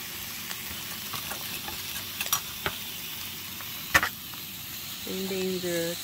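Food frying and sizzling in a pan inside a camper van, a steady crackling hiss under faint background noise with a couple of brief clatters, ending in a low hum.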